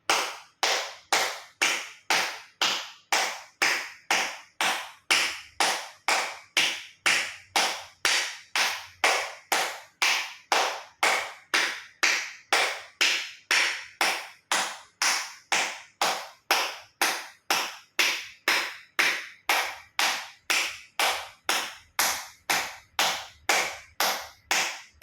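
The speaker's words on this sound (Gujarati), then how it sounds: "એક્યુપ્રેશર તાળી જોરથી હથેળી આંગળીઓ બધું ટચ થાય રીતે 50 વખત જોરથી તાળી આપીશું" A loud acupressure clapping exercise, with palms and fingers meeting fully, produces about fifty sharp, close claps in a steady, even rhythm, roughly two per second, with no talking.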